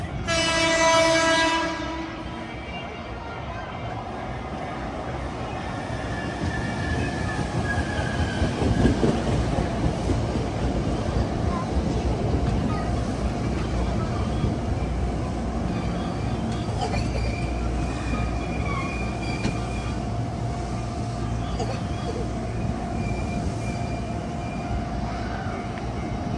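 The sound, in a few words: Hankyu train arriving at a railway crossing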